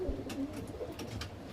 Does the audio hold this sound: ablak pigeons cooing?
yes